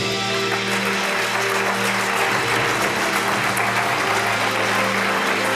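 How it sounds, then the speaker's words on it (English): Sustained applause from a large audience at the EGU 2018 award ceremony, a steady dense wash of clapping filling the hall with no talk over it. "Please applause for Natasha Jeffrey, Solar Terrestrial Sciences."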